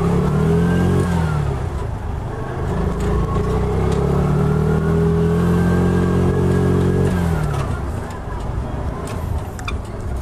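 A Piaggio Ape City three-wheeler, a 2020 fuel-injected model, runs loudly and close while being ridden, its engine droning and rising in pitch as it accelerates, with muffled talk under it.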